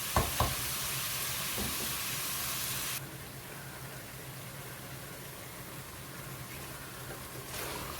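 Chicken haleem mixture of chicken, lentils and wheat frying in a pot, a soft continuous sizzle and hiss with faint stirring, brighter for the first three seconds then quieter.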